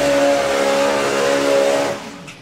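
Nitro four-cylinder drag racing car screaming at full throttle in a loud sustained roar at an FIA drag racing event, then quickly cutting off and fading away.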